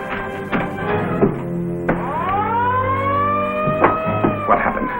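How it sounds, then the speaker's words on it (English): A ship's alarm siren wailing on board, a loud tonal whine that rises, holds and falls across several cycles, with clanking and thuds around it and no speech. "that's the alarm."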